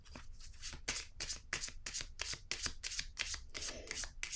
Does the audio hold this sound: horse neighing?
no